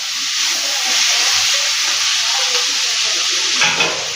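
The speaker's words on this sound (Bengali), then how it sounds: "একটুখানি এটাকে আমি নেড়ে নেবো ভালো করে।" Chicken biryani mixture being stirred in a frying pan, a steady sizzling fry with scraping strokes of the spoon throughout, close and fairly loud, no talking.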